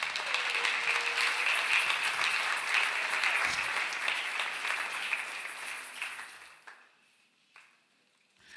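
A church congregation claps and cheers in a sustained burst of applause that fades out near the end, leaving a quiet pause.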